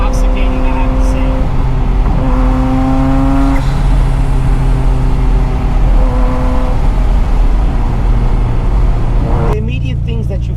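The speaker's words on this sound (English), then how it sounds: "you hear all these pops and crackles, and you hear the wastegate of the blow-off valve" Ferrari F40 engine droning loud and steady from inside the car, its pitch rising and falling through gear changes, with crackles and a sharp whooshing blow-off near the end.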